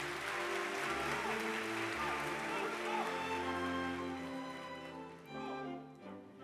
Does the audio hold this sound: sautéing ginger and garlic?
no